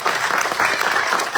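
A church congregation at a Sunday celebration service breaks into dense, sustained applause, a broad wash of many hands clapping together at once.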